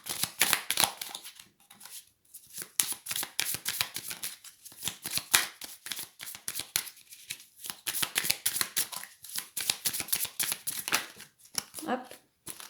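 Tarot cards being shuffled and drawn, giving rapid bursts of close, crisp riffling and flicking that start and stop in stretches across the whole passage, with brief pauses between the runs.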